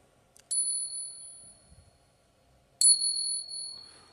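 A silver Morgan dollar coin struck twice, each tap giving a bright, sustained ringing tone that decays slowly, the second strike landing about two seconds after the first; close and clear with no talking.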